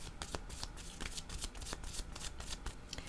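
Oracle cards shuffled by hand for a reading, a steady run of quick riffling snaps and papery flutters close up, continuous for a few seconds with no voices.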